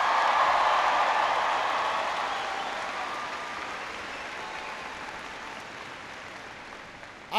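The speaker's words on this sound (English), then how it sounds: "Please give Daniel a big round of applause for that great introduction." A large crowd gathered for a presidential speech bursts into loud applause and cheering, a roaring wash that peaks at the start and slowly tapers over several seconds.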